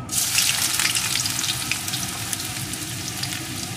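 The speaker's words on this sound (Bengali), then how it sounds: "এখন আমি প্রথমে এর ভিতরে দিয়ে দেবো পেঁয়াজ কুচি।" Chopped onion hits hot mustard oil in a pan and fries with a loud, dense, continuous sizzle up close, steady throughout with no voices.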